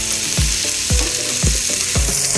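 Food sizzles steadily in a hot pan while a utensil scrapes and stirs it in four regular strokes, each one a distinct scrape over the constant frying hiss.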